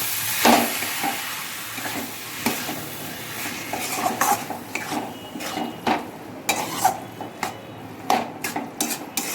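Potatoes tossed with spices in a pan: a metal spoon scrapes and clinks against the pan in irregular strokes over a soft background sizzle, close and moderately loud.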